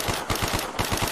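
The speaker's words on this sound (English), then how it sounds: "Oh, this is the FAMAS." FAMAS assault rifle fire in Call of Duty Zombies: rapid, loud, close bursts of shots crackling in a steady rhythm with no pauses.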